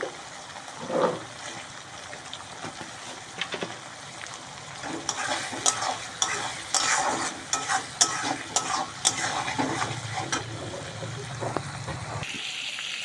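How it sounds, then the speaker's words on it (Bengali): Shrimp fry in a pan with ginger-garlic paste, salt and spices. A soft sizzle runs under busy stirring and scraping, with sharp clatters and bursts of crackle growing denser midway before easing off near the end. "বন্ধুরা দেখুন কত সুন্দর চিংড়ি মাছটা ভাজা ভাজা হয়ে গেছে মশলা দিয়ে"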